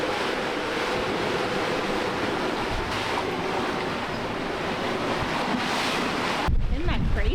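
Ocean waves from a big cargo ship's wake wash steadily past a boat on open sea, a continuous loud rush mixed with wind buffeting the microphone, with a brief voice near the end.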